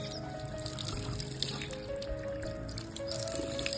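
Natural spring water flowing out of a mountainside in Azad Kashmir near Bagh, heard as a faint, continuous trickling and gurgling stream with soft dripping over low background noise.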